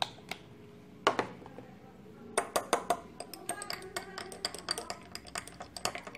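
Homemade face primer shaken in a small container, giving a quick run of light clinks and rattles, sparse at first and then denser and rhythmic, close and fairly quiet.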